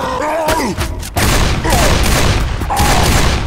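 Rapid gunfire rings out in a dense, continuous fusillade aimed at the Tank in Left 4 Dead 2, loud and close, with several overlapping guns and a brief break partway through.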